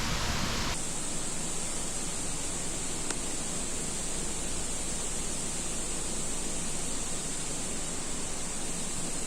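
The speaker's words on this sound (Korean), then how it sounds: "돌아가는 모터 소리가 섞이지만 폭포의 소리도 즐기시고" Water crashing down the artificial cliff of Yongma Waterfall Park in Seoul, fed by a pump, forms a constant broadband roar mixed with a steady motor hum, uniform and unbroken throughout.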